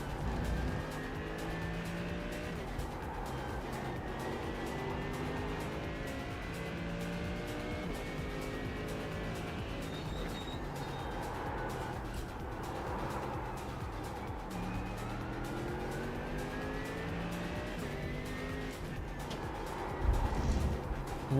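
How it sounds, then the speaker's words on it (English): A video-game car with a droning engine likened to a school bus, revving up and down through repeated gear sweeps while its tires skid and squeal in a long slide, steady and fairly loud for about twenty seconds. "I like how this car sounds like a school bus."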